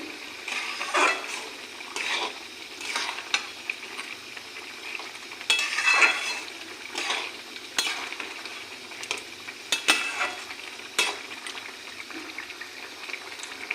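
Fish head curry with spices, sugar and kasuri methi is stirred and mixed in a pan, giving repeated scraping and clinking utensil strokes over a soft simmering sizzle.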